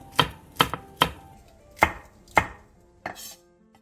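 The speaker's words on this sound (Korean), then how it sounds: "대파와 청양고추를 어슷썰게 해주세요." A knife chops green onion and chili peppers diagonally on a cutting board, six crisp thuds at an uneven pace, close and clear with no talking.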